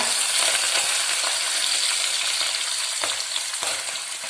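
Onion, green chili and curry leaves sauté in hot oil for a Kerala-style yellowfin tuna curry, a steady sizzle throughout with occasional sharp ticks of stirring against the pan.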